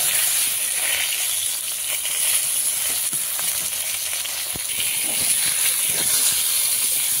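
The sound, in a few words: eggplant frying in oil in a pan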